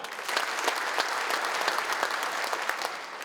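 Fathers in a comedy festival gala audience clap in response to a host's call, a dense, steady round of applause that fills the room for a few seconds.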